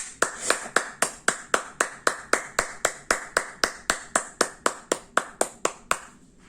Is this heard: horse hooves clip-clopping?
no